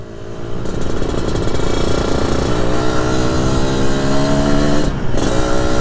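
A 1991 Yamaha RXZ two-stroke motorcycle engine runs close and loud, holding a steady raspy buzz with slight rises in revs and a brief dip near the end. No one speaks.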